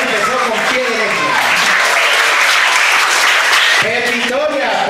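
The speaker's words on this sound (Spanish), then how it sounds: "Un aplauso fuerte para Fabián." Studio audience applauds a game show contestant: a loud burst of clapping swells in the middle, with a voice talking over the start and returning near the end.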